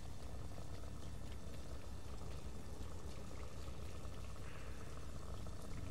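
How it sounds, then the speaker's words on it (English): Water dripping and trickling in the video game Little Nightmares, a faint, steady watery wash with low rumbling ambience, no voices. "Drips of water."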